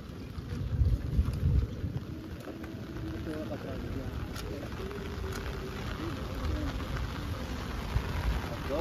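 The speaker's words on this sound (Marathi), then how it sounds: "जोरात पाऊस आहे वाटतं." Heavy rain falls steadily at a creek during a fishing outing, a dense continuous hiss mixed with wind buffeting the microphone, with low voices talking underneath.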